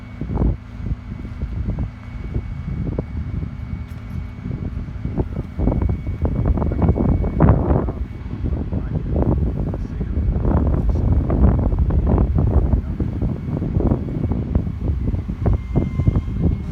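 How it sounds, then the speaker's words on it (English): Strong wind buffets the microphone outdoors during a roadside encounter, producing continuous low rumbling gusts that swell and fade over about seventeen seconds. "Windy out here, guys."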